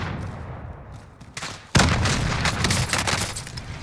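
Gunfire in Modern Warfare Warzone, a sudden loud burst of rapid shots after a quieter lead-in, continuing as a dense fusillade of cracks and booms close by.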